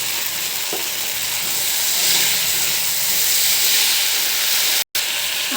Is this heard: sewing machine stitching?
no